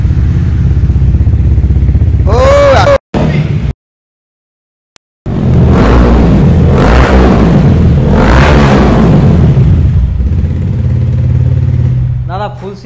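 A used motorcycle fitted with a full aftermarket exhaust system, at a second-hand bike showroom near Kolkata, revs loudly and close in repeated bursts with a brief silent gap, while people talk over it.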